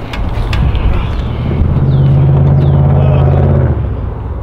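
A plow truck engine rumbles loudly close by, a low sustained drone building and holding for a couple of seconds with wind buffeting the microphone.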